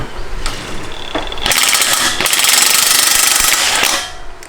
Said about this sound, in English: just lightly tightening these clamps down here